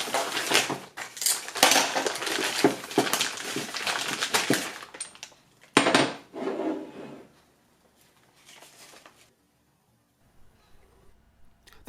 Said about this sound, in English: A sharp cutter wheel is spun around the filter and slowly tightened, just like a tubing cutter.